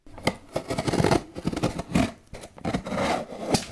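Parcels are unboxed by hand, giving close rustling, rubbing and scraping of packaging in quick irregular bursts, with no talk.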